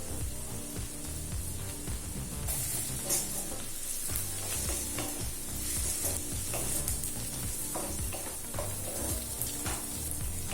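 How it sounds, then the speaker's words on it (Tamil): Onions, green chillies and ginger-garlic paste frying in a pan for potato gravy, a steady dense sizzle with occasional stirring scrapes, close and continuous with no talking. "இப்ப வெங்காயம் நல்லா வதங்கிடுச்சுங்க."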